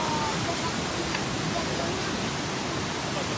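A fast-flowing river in Munich surges into standing surf waves, heard as a loud, constant broadband rush of water filling the whole scene.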